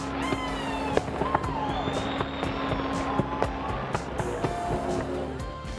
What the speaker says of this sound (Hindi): बुलंद तरीन स्काई टावर पर नए साल का इस्तकबाल आतिशबाजी के मुजाहरे से किया।